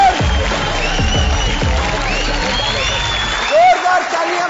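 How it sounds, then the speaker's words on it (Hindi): A television reality show finale crowd gives loud applause and cheering to welcome the season's winner, sustained clapping with a voice speaking over it and a musical swell near the end. "एक बार जोरदार तालियों के साथ स्वागत कीजिए मुनव्वर फारूकी"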